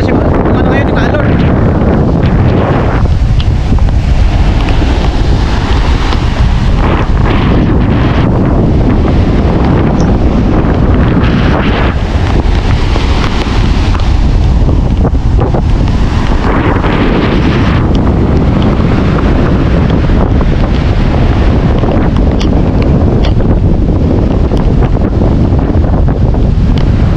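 Typhoon Carina lashes the shore with strong gusting wind buffeting the microphone and crashing sea waves, a loud, constant roar that swells and surges, with voices shouting faintly beneath it.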